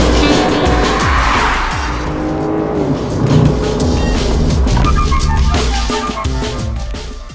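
A MINI 5 Door car in sport mode accelerates hard, its engine droning loud and steady throughout, with a whooshing rise and some tire noise.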